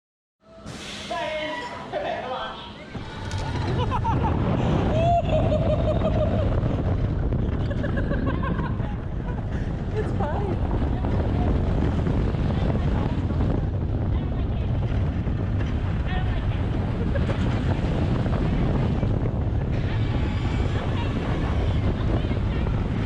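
The Pony Express launched roller coaster at Knott's Berry Farm roars along its track in a ride-through view, with heavy wind buffeting and loud rushing rumble after a short quieter start, and faint voices early on.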